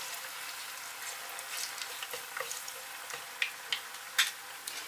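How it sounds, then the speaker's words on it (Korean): Washed, drained potatoes frying in cooking oil in a tilted pan: a soft, steady sizzle with scattered crackles and pops, growing busier toward the end, close by and with no voices. "물기 제거한 감자 넣겠습니다. 그러나 다 잠기지 않기 때문에 기울여서 튀깁니다."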